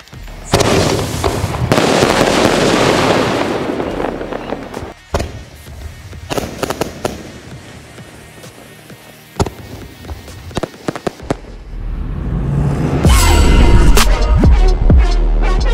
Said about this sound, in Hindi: एक स्काई शॉट जो सीधा ले जाए, मतलब कितने की पावर आ गई इसमें, इतने सारे ऊपर फटे